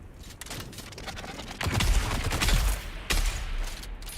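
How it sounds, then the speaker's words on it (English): Rapid enemy gunfire in Dune: Awakening, a dense, sustained volley of shots that swells louder partway through and stays busy to the end, with no talk. "he's too quick on the shooting, isn't he?"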